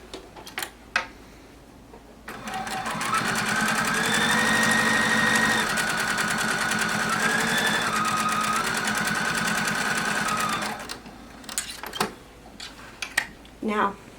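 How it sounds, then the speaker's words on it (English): A sewing machine runs steadily for about eight seconds, stitching down quilt binding, with a whirring motor hum and rapid needle chatter, loud and close, then stops; brief handling clicks come before and after. "go back over to the machine and sew"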